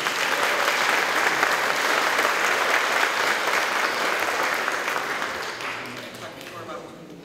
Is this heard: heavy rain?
no